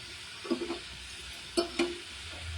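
Food coated in rice flour frying in hot oil, with a soft steady sizzle under several sharp scraping and stirring knocks from a utensil in the pan.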